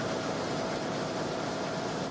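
Newspaper printing press in Northwest Missouri running, a dense steady mechanical roar like broadband noise with no breaks, close and constant throughout.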